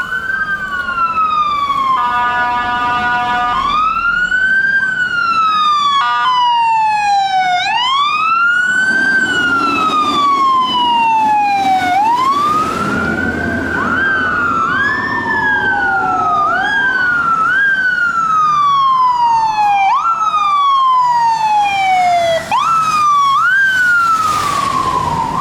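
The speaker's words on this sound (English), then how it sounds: "I guess we have an ambulance coming down the street, or a fire truck." An ambulance or fire truck siren wails along a city street in Kensington Market, rising and falling in repeated sweeps, loud and close throughout as the vehicle passes.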